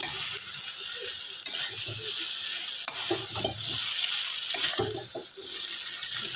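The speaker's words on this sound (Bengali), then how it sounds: "এবার এটা আমি ভালো করে মিক্স করব" Boiled Maggi noodles tossed with masala in a pan, with continuous soft sizzling and scraping stirs, plus a few sharper knocks of the utensil against the pan.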